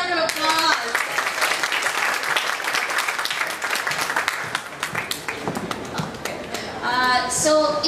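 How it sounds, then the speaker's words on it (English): An audience at a talk-series event claps in a sustained, fairly loud round of applause that swells and ebbs, with a speaker's voice briefly heard at the start and again as it tails off. "let's give her a round of applause"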